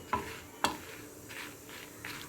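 Dry red chillies being stirred and roasted in a pan give two sharp scrapes of a spoon against metal, then a soft rustle and faint crackle of the pods being turned, with no talking.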